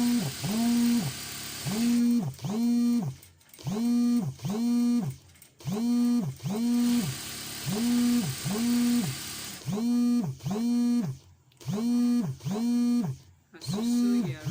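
Elastic for a fluffy tutu skirt is fed through a sewing machine, whose motor runs in repeated short whirring bursts with brief pauses between them, close and fairly loud.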